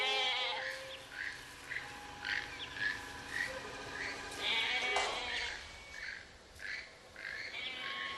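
A goat bleats repeatedly, a string of wavering cries close by, with faint chirps in the background and no talking.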